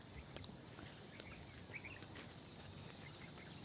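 Cicadas call in a hill forest as a dense, unbroken high-pitched drone that holds steady and loud throughout, with faint scattered chirps in the background.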